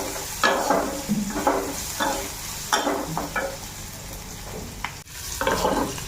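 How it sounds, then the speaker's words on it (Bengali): Onions fry in a hot pan with a steady sizzle, broken by repeated scraping strokes of a spatula stirring them, close and alone with no talk. "ভাজা হয়ে গেছে পেঁয়াজটা"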